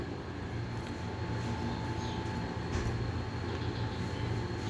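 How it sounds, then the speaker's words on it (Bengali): A metro rail train rumbles steadily over an elevated station overpass bridge on a city street at night, a continuous loud low roar with road traffic mixed in and no talking. "এই ব্রিজ দিয়ে মেট্রো রেল চলাচল করে"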